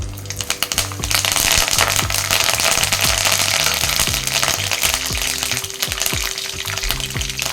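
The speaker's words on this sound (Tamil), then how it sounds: "கடுகு நல்லா பொரிட்டுங்க." Mustard seeds pop and splutter in hot oil beside roasting dal for idli upma, a dense, continuous crackle that goes on throughout, with sharp pops scattered over it.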